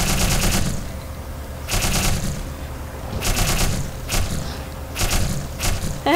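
Bursts of automatic gunfire in the video game Black Mesa, four or five loud rapid volleys separated by short pauses.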